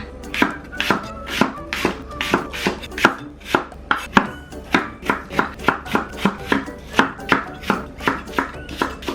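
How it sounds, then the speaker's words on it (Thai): A knife chops apple on a cutting board for kimchi in a home kitchen, a long run of crisp, evenly spaced cuts that carry steadily, close and clear, with no talking. "ต่อไปเราจะมาหั่นแอปเปิลกันนะคะทุกคน"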